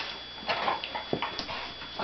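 A dog up for adoption, in an office, gives several faint, soft whimpers and short yips against quiet room noise over about two seconds.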